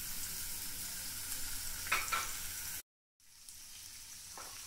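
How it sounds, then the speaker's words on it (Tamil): Ginger, garlic and green chili frying in oil for paneer butter masala, a soft steady hiss with a couple of stirring clicks, broken by a brief cut to silence before the sizzle returns. "இதை ஒரு 2-3 நிமிஷம் அந்த எண்ணெயிலே நல்லா வறுத்துக்கலாம்"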